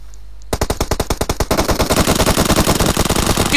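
Rapid automatic gunfire from an esports shooter match, loud, close bursts of evenly spaced shots starting after a brief quiet moment and growing denser toward the end.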